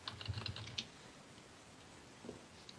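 Quick keystrokes sound on a computer keyboard in a short burst, followed by a quiet gap and a faint click or two.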